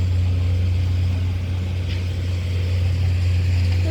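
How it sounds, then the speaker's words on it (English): A grass cutting machine runs beside a pond, a steady low motor drone holding at even loudness throughout with no voices over it. "the grass cutting machine is coming behind"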